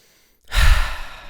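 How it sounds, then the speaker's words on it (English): A single deep breath during a breathing exercise, silence then a loud, close exhale that swells quickly and trails off. "So I'll do 3 breaths."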